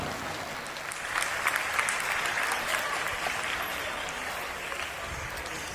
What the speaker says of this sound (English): Audience, please welcome the guests of honor with a huge round of applause.